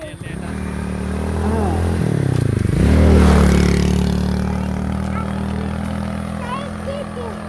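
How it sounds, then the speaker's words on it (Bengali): A motorbike approaches and passes nearby, its engine drone rising to a peak around the middle and then easing away, with scraping and clatter on the road and people talking over it. "ওই যে বাইক আসতেছে"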